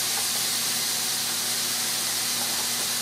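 Onion sizzles in a hot pan as it starts cooking for marinara, a steady, loud, close hiss with no pauses and no talking.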